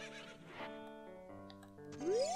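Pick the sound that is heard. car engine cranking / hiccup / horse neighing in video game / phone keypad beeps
horse neighing in video game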